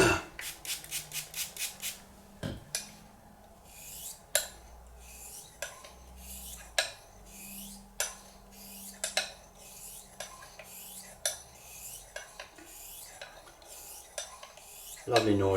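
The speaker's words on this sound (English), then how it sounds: "You can feel it grinding, but in a way it almost starts polishing good steel." A Dorko 14 straight razor of Swedish steel is honed on a 2000 grit stone, giving a soft, rhythmic series of close scraping strokes, quick at first and then steadier, fairly quiet with no talking.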